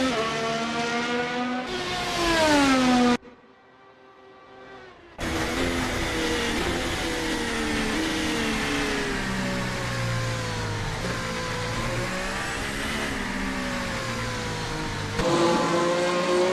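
Race car engine howls through a racing lap in China, revving and shifting up and down with a brief drop-off in the middle before the loud, steady drone resumes.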